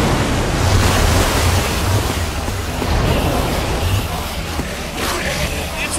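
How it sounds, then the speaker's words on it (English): Water gushes out of a lever-driven mechanism in Minecraft Story Mode, a loud, continuous rushing and churning roar like heavy surf that swells and eases without pause. "I don't know how much water this thing is going to kick out"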